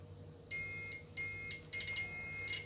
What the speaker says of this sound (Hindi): ये डबल डायोड जो है ये खराब है, ठीक है, या बजर सुन सकते हैं।